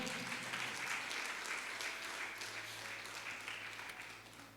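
Church congregation applauds in a steady, dense wash of clapping that slowly fades, heard from a distance.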